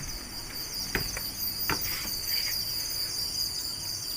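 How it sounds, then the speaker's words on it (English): Continuous high-pitched insect chirring fills a forest at Kanha, steady and dense, with a few faint clicks and distant bird notes. "the mesmerizing feeling of the forest, the sounds of insects"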